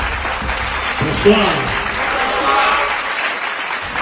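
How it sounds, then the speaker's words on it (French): Applause from the audience at an evening artists' forum event rises after a single spoken greeting, a dense wash of clapping filling the room that holds steady to the end, with a voice briefly heard over it. "que je vous demande d'applaudir, mesdames et messieurs"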